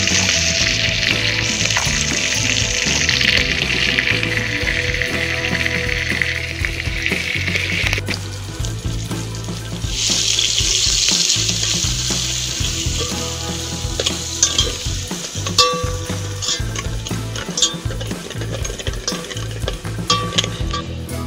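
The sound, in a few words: bhaji fritters deep frying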